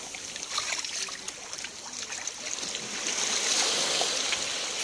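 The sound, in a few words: sea waves around a boat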